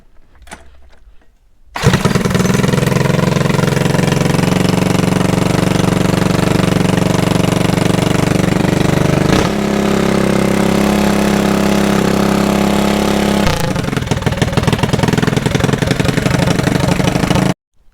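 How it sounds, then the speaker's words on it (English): A Predator 212 engine on a bike cranks briefly, then fires up and settles into a loud, steady, slightly knocking idle close by for about fifteen seconds before shutting off. "I'm just gonna use my starter box to start the bike"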